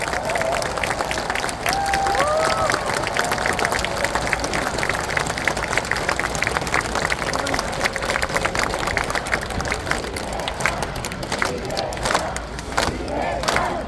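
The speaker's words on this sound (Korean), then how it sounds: "박수 부탁드립니다." A large outdoor crowd at a political campaign speech in Sejong, South Korea, claps and cheers continuously, dense and loud, with shouting and chanting mixed through the applause.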